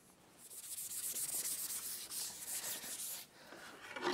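A tung oil wood finish being rubbed out on a herringbone wooden cutting board: faint, steady rubbing strokes repeat close by with no talking.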